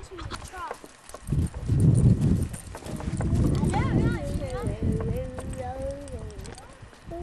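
Horse hooves clip-clop at a walk on a hard surface while people talk and a voice chatters over the steps.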